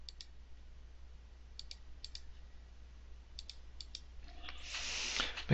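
Sparse, faint mouse clicks while applying a dodge and burn brush in Photoshop, a few isolated clicks and double clicks at a desk, followed by a louder burst of noise near the end.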